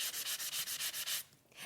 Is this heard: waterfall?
no